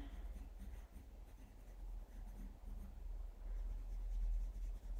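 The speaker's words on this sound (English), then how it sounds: "I'm going to be starting off just going sketching away or drawing away" Quiet, close scratching of a pencil moving across paper in short continuous strokes, soft and steady with slight variations in pressure.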